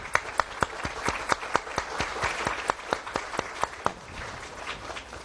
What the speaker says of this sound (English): So please give all those individuals a round of applause.